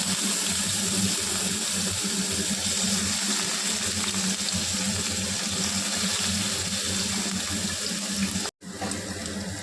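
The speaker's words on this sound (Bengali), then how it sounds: "তেলটা গরম হয়ে গেছে, এখন আমি রসুনগুলো দিয়ে দেবো।" Garlic sizzles steadily in hot oil with a loud, constant hiss and crackle, the frying noise filling the whole stretch with no voices, broken only by a brief gap near the end.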